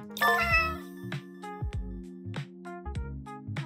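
Cartoon cat meows from the 100 Cats video game set in New York, several short tonal mews in quick succession over a steady game music bed, clear and close.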